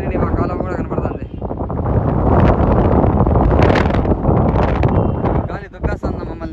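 Strong wind buffets the microphone outdoors near a riverbed as a loud, roaring rumble that swells through the middle and dips briefly near the end, with people talking underneath.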